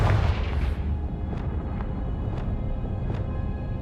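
A Confringo blasting spell in the Hogwarts Legacy video game sets off a booming blast at the start, followed by a rumbling tail with a few sharp crackles as it fades.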